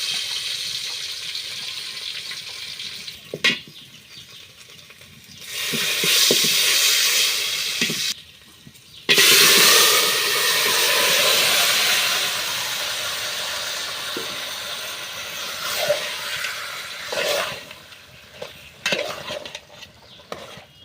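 Green jackfruit curry cooking in a pan: a continuous loud sizzle and hiss of steam, with scraping stirs of the spoon and occasional brief lulls.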